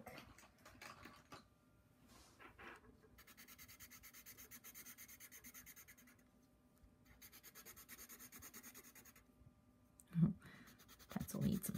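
Pencil drawing lines on paper during a morning worksheet, a soft steady scratching in two long strokes, quiet and close, followed by a few louder knocks near the end with no talking.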